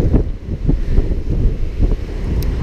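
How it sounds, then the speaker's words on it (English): Strong wind gusts buffet the microphone on the high seventh-deck open area of the MSC Meraviglia cruise ship, a loud, rumbling, uneven roar throughout with no talking. "It's pretty high, and it is super windy."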